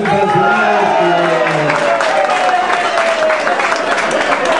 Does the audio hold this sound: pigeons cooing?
no